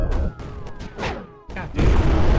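Mortar shells firing and landing in the video game Creeper World 4, a series of booms and thuds with a falling whistle before heavier impacts, with someone talking over parts of it.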